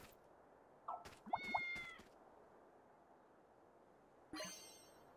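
A cat in the video game Fantasian meows in short bursts, a cluster of quick chirpy mews followed after a pause by one more, faint and isolated against a quiet background.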